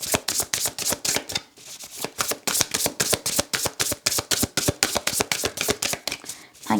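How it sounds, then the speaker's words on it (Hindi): Tarot cards shuffled by hand in a rapid, steady riffle of crisp slaps and flutters, close and continuous with only brief pauses and no talking. "तो कार्ड्स को शफल करते हैं।"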